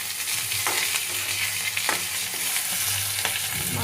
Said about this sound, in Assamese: মাছ ফ্ৰাই কৰা হৈয়ে গ'ল